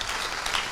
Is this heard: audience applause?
yes